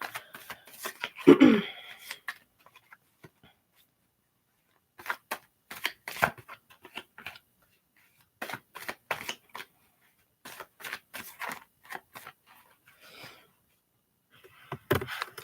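Oceanic Tarot cards being reshuffled by hand, a series of soft, papery riffles and taps in short bursts separated by quiet gaps, close and faint with no talking.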